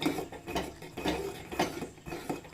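Grated coconut being stirred into hot jaggery syrup in a pan for kuli paniyaram filling, a spoon scraping and clinking against the metal in repeated strokes, close and fairly quiet, with no talking.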